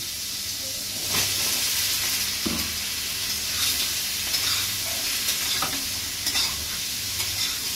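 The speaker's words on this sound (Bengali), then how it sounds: "একটু হলুদ দিয়ে এবার নেড়ে নিয়েছি" Ridge gourd and prawns with turmeric are stirred in a hot pan, a constant close sizzle with repeated scraping and clinking of the spatula at an even, unhurried pace.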